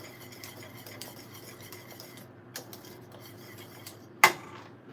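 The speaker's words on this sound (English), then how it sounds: "You want to stir that in." A spoon stirring nutmeg into Jamaican-style peanut porridge in a pot: soft scraping and light taps against the pot, ending in one sharper clink, all fairly quiet over a low steady hum.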